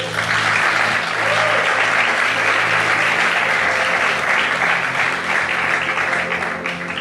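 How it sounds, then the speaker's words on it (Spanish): Church congregation applauding in a sustained, dense wave of clapping that fills the whole stretch at steady loudness, with faint crowd murmur underneath and no clear speech. "dile un aplauso a Jesús."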